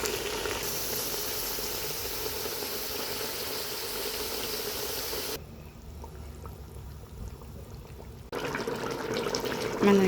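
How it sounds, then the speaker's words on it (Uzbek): Meat and onions sizzle in hot oil in a pot while cooking Uzbek plov, a steady, close hiss of frying that drops briefly quieter midway before surging back. "Go'shtimiz ozgina qovurilib oldi, endi dalishi piyozni ham qovuramiz."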